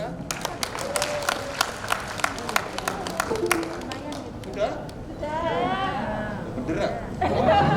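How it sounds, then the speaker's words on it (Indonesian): Audience applause at a health-post award ceremony in Malang, Indonesia, with sharp claps at first, then a voice speaking over thinning clapping and crowd noise. "Beri tepuk tangan yang meriah."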